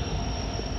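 A train running along the track, a steady broadband rumble with rail noise throughout, close and continuous for under a second with no talk.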